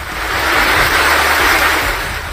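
Floodwater after torrential rain surges over a road in a fast current strong enough to carry off parked vehicles, a loud, continuous rushing roar with no speech.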